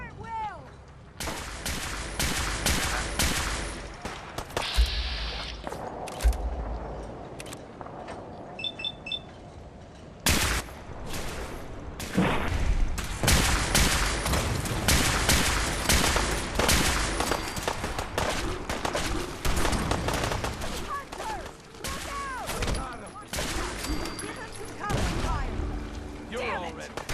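Volleys of gunfire crack repeatedly in the video game Fallout 4, with dense bursts and booms over nearly half a minute, some shots close and loud, others more scattered, with shouting voices in between.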